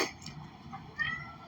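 A pet cat named Kitty meows a few times at close range, short tonal cries over a low background hum with no talking.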